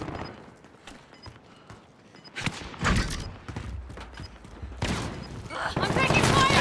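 Gunfire crackles in a Call of Duty Modern Warfare multiplayer match: bursts of automatic shots and impacts building from quiet scattered pops to loud rapid volleys, with game voice chatter underneath.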